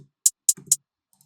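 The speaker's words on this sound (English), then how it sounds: "It's just sort of a low, more acoustic sounding hi-hat." Three crisp, low, acoustic-sounding accent hi-hat ticks in an even rhythm, dry and close, with a soft low thump under the third, then silence.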